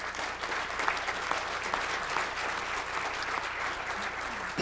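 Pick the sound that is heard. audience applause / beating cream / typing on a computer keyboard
audience applause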